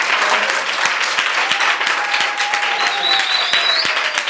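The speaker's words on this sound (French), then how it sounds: "Vous êtes contents, applaudissez s'il vous plaît." A church or community celebration crowd applauds loudly and steadily, with sharp individual claps standing out from the dense clapping and a few faint whistles or cries rising near the end.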